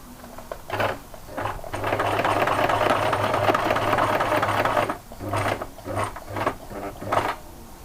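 A sewing machine stitches an appliqué onto terry cloth, running in a steady whirring burst for several seconds, then in short stop-start spurts of needle chatter, close and clear with no talk.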